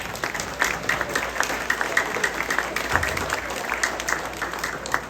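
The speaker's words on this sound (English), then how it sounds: "Give yourself a big round of applause." Steady audience applause at a Love Sanibel community program, dense continuous clapping at an even level throughout with no speech.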